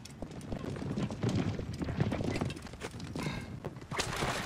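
Horse hooves clip-clop in the Assassin's Creed Origins video game, a steady run of close hoofbeats mixed with game ambience and some light background noise throughout.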